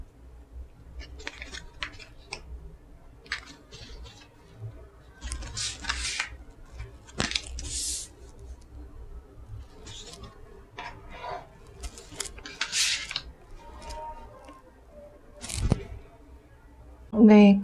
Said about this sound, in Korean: 카드 나열을 좀 해볼게요